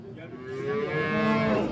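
A very large cow moos at a busy livestock market in Yangiqo'rg'on, one long, rising call held close and loud for nearly two seconds, with no talk over it.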